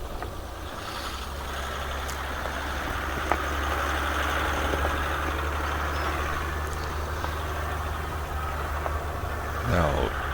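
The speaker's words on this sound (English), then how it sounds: "you can very much hear that diesel engine pushing" Diesel engine of a Range Rover pulling hard off-road on a dirt trail, a steady low rumble that continues loud throughout without a break, with a brief clatter near the end.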